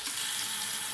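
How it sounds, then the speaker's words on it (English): Tap water runs briefly as a razor is rinsed during a shave, a soft, even hiss of flowing water heard up close for about a second. "Let me rinse that away."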